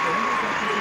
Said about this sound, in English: Wow, he deserves all the applause. What a great reception